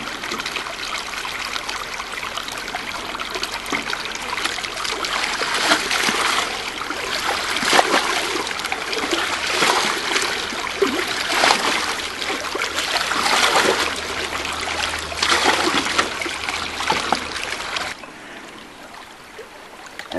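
Steady rushing and trickling of water washing dirt and gravel through placer mining equipment, a continuous splashy wash that runs loud and close for most of the stretch, then eases toward the end.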